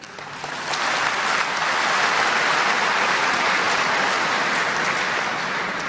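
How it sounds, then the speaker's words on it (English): A big hall audience claps at a lecture event on media and Islam, the applause swelling after a brief start and then holding loud and even throughout. "I request all the audience to give him a big clap."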